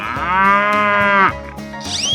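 A cow in a 3D animal slide game lets out one long, loud, steady moo, then a brief rising electronic tone closes the moment.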